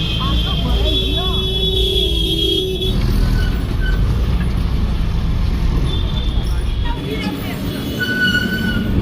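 A crowded old bus in India arriving and rolling along toward a railway station, a loud continuous engine and road rumble with squeals and rattles throughout, voices talking over it.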